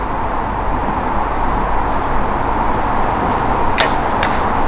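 Arrow shot from a bow striking a 3D archery target at an outdoor shoot, heard as a couple of brief sharp impacts near the end over steady loud wind-like noise.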